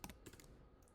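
Typing on a computer keyboard, a few quick soft keystroke clicks in a short burst, faint and close.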